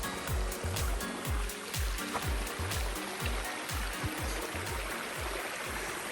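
Water runs steadily at a creek crossing during an overnight camping trip in hot weather, with a rhythmic low chugging underneath the continuous rush.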